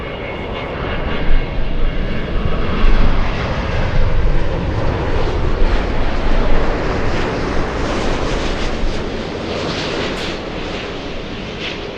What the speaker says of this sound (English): We have El Al on short final.